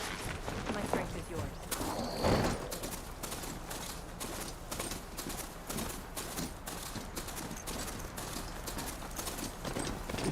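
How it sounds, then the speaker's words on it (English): Horse hooves clip-clop at a trot in the video game Horizon Forbidden West, a rapid even rhythm of hoof strikes under background game sounds, with a voice briefly heard. "Vamos, caballo."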